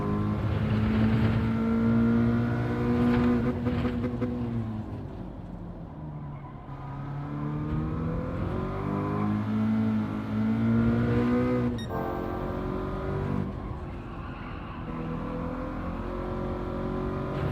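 Gran Turismo 7 car engine, a Toyota 86 or Subaru BRZ racing at Tsukuba, revving hard and dropping back through several gear shifts, loud and close, with a short lull before climbing again.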